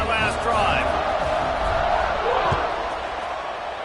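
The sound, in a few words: excited crowd cheering at an American football game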